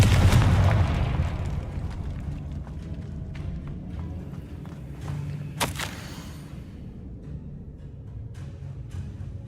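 A Confringo blasting spell detonates in Hogwarts Legacy: a heavy, close boom opens and rumbles away slowly, followed midway by a single sharp crack over a lingering low hum.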